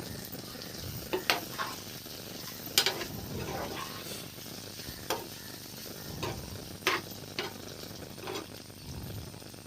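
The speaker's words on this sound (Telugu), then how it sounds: "అల్లం వెల్లుల్లి పేస్ట్ వేసుకుని డీప్ ఫ్రై చేసుకోవాలి" Ginger garlic paste fries in hot oil in a pan, a low steady sizzle with occasional sharp clicks and scrapes of a utensil, fairly quiet and close.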